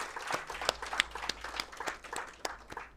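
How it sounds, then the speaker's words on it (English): Audience at a National Science Day event clapping to welcome a speaker, a sparse, quiet round of scattered individual claps with uneven rhythm, fairly close, without voices. "please join me with a big round of applause to warmly welcome Rajvi."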